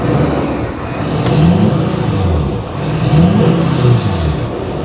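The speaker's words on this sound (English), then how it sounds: "Take a listen to it, give it a little rev." A 2011 Chevy 3500 diesel truck engine is revved twice, with a loud, close idle rising into two throaty surges and settling back between them.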